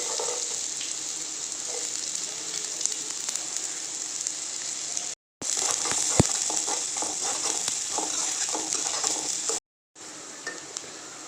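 Finely chopped medium onion sizzling and frying in hot oil for chicken manchurian, a steady close crackle with stirring scrapes, broken by two brief silent gaps.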